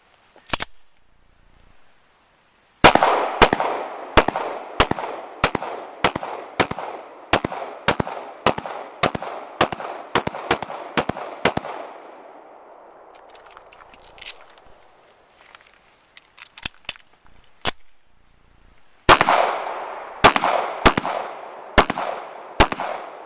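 A CZ 75B pistol fired outdoors in a rapid string of sharp, loud shots, close and evenly spaced, then a pause and a second quick volley of shots.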